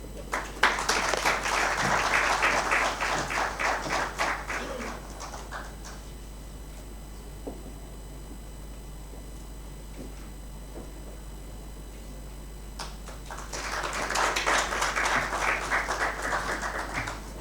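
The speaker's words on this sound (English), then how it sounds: "Are you clapping for the assistants?" A conference audience at a winter school at Victoria Falls breaks into a burst of applause that fades into quiet, then rises again in a second round of clapping, heard from within the room.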